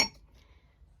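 Large ice cubes clink against a glass as a cookie iced coffee with milk is stirred: one short, fairly close clink at the start, then near-silence.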